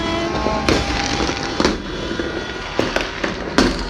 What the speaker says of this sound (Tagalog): Ang dami na putukan.